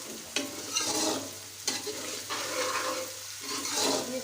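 Onions browning in a pan for aloo chicken curry, a bright sizzle broken by repeated scraping strokes of a spatula stirring them, close and alone.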